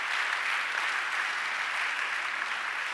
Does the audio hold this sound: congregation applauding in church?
yes